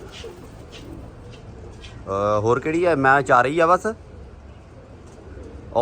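Domestic pigeons cooing on a rooftop loft perch, a brief clear run of throaty coos close by, with someone talking before and around it.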